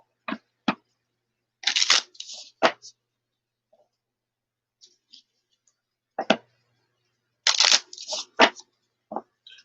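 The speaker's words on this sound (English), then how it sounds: "I'm gonna shuffle this up a little bit" Tarot cards being shuffled by hand in two short, crisp bursts of riffling several seconds apart, close and fairly quiet, with a voice speaking in between.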